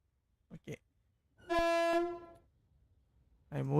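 In the Train Simulator game, an Indian express train, the 15127 Kashi Vishwanath Express, gives a single sustained horn blast after two short clicks, followed by a quiet lull and then a burst of noise at the end.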